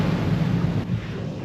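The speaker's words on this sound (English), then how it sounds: "A little windy." Steady wind buffets a sailing boat at sea, a loud continuous roaring rush across the microphone with no voices.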